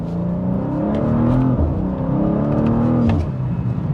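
A BMW M2 with a ZF automatic transmission accelerates hard, its engine note climbing steadily with a couple of quick, firm upshifts, loud and close with no talking.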